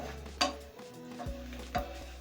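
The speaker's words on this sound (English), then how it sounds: "So you stir as the garlic and ginger cooks" Garlic, ginger and softened onions being stirred in a pan, with a few distinct scraping clinks of the utensil against the pan over a low background hum.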